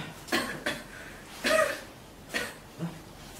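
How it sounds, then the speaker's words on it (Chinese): A woman gives a series of short, close coughs, about four or five separate bursts spaced irregularly, in a quiet indoor setting with no talking. "妈妈，你怎么咳嗽呀？"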